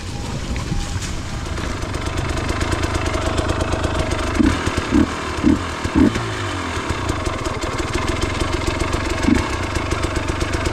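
A 2018 Husqvarna 250 TPI two-stroke enduro motorcycle engine buzzes and revs continuously up close on a trail, with repeated throttle blips giving a pulsing, rising-and-falling rasp.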